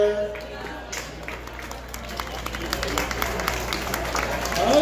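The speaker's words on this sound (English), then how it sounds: "let's give him a round of applause" A crowd claps and cheers steadily at moderate distance, a broad wash of applause that swells toward the end, with voices mixed in.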